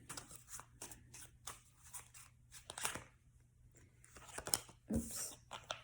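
Tarot cards being shuffled at a reading table, a soft, irregular run of riffling and sliding card noises with brief crisp snaps, faint and close, with a low steady hum underneath.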